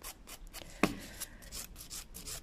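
A nail file rasps across a gel nail built on a tip. The strokes are soft, close and rhythmic, with one sharper scraping click partway through. No one speaks.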